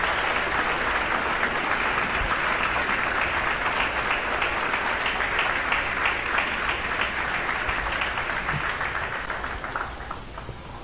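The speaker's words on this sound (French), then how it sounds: "Alors, applaudis, conférencier." Audience applause for a speaker at a French-speaking Christian gathering on faith and politics, a long, even wash of many hands clapping that tapers slightly toward the end, no talk over it.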